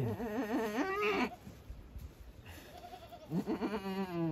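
A young goat kid bleats in quavering, wavering cries, one burst early and another near the end with a quieter gap between, close and fairly loud.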